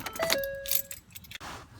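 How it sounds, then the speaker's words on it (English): Keys jangle close up while a Ford Explorer is switched off, a short bright metallic rattle followed by a click and a faint ignition sound, with no one talking. "Then turn the car off."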